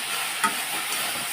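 Vegetables are stirred in a hot pan after coriander and chili powder go in, with a steady low sizzle and one brief louder scrape of the spoon, no voices.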